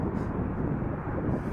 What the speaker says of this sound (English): Here's a 330 coming in.